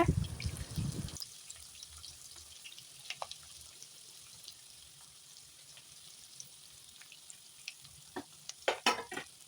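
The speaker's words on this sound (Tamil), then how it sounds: "பெரிய சைஸ் வெங்காயத்தை எடுத்து பொடியாக நறுக்கி அதையும் சேர்த்து நல்லா வந்து கண்ணாடி பதம் வர வரைக்கும் நல்லா வணக்கி விட்டுக்குங்க" Finely chopped large onions crackle and sizzle in a hot pan, a loud burst as they go in, then a quieter steady fry with occasional stirring clinks.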